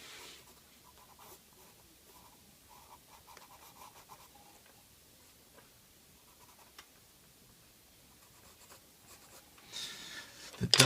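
A Rose Art red colored pencil scratches softly on paper, outlining a drawing of Darth Maul's double lightsaber with continuous light strokes and brief pauses, quiet and close, ending with a louder rustle.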